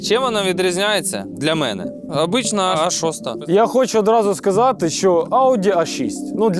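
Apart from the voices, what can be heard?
None of the usual background noises is heard.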